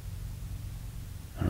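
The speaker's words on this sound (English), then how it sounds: "That was a motorcycle going by." A motorcycle passes by outside, a low steady engine rumble that swells in loudness toward the end as it draws closer, heard alone without talk.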